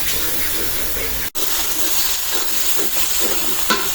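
Pangas fish heads dropping into hot spiced oil in a home kitchen pan, giving a loud, steady steam-like hiss and sizzle that fills the clip, broken by one brief gap, with no talking.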